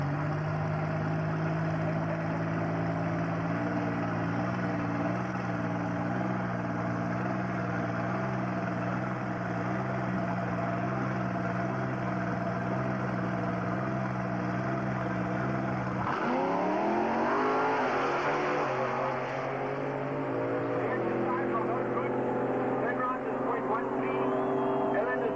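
At a drag strip, a small-block V8 Sapphire lines up against a turbocharged V6 436 car, engines droning steadily before a sharp surge of revving and acceleration as they launch, heard from a distance with commentary over it.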